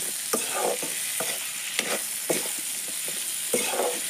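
Meat and a few pieces of potato fry steadily in a home-kitchen pan, a continuous close sizzle broken by several sharp clacks and stirring scrapes of a utensil, with no talking.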